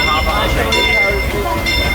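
The Disneyland Railroad train rolls into Main Street Station with a steady, loud rumble of wheels and carriages, an announcer's voice running over the noise.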